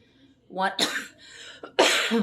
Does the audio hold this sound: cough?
yes